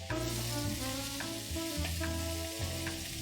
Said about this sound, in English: Let's show chat the sizzle.